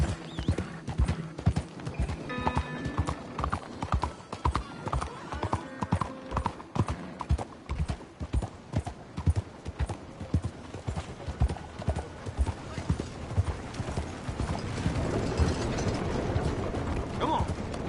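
Horse hooves gallop in Red Dead Redemption 2 with a fast, steady clip-clop rhythm close by, accompanied by creaking tack and a faint whinny over a low background.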